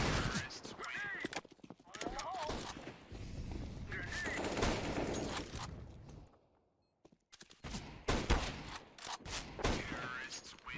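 Dense Counter-Strike gunfire with sharp Desert Eagle pistol shots, rapid cracks and bursts, a brief lull, then more firing, loud and busy, with talk running over the shots.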